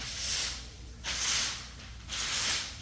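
Three long abrasive strokes of sanding on the inside of a steel door skin from a 1963 Buick Riviera in a body shop, each pass a steady broad rasp with short pauses between, close and moderately loud.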